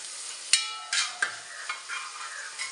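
Fried rice with a little dark soy sauce being stirred in a hot pan, with a few sharp scraping strokes of the spatula over a soft, steady sizzle, heard up close and with no one talking.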